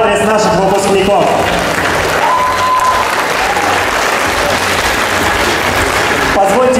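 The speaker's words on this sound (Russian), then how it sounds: "Друзья, еще раз аплодисменты в адрес наших выпускников." An audience applauds graduates at an alumni forum of a philology and journalism institute, steady loud clapping filling the hall, with brief voices and tones heard faintly at the start and end.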